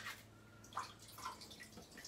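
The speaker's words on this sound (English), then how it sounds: "Just going to drain the water off." Water draining from a tin of mixed beans, heard as faint, sparse drips and trickles, quiet and close with small splashes.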